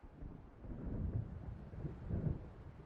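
Thunder from an approaching storm in the video game Alan Wake, heard as a low, rolling rumble with wind and surf noise. It swells gradually through a few soft peaks and stays steady and distant, with no voices.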